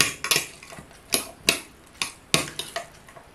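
Metal spoon clinking against a glass verrine while stirring diced beetroot with vinegar, a series of sharp, irregular taps and scrapes up close, no talking.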